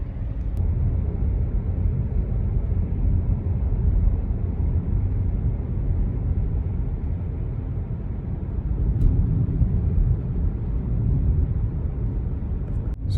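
A Tesla Model 3 Performance climbs a 5% grade, heard as a steady low road and cabin rumble that holds evenly throughout, with no talking.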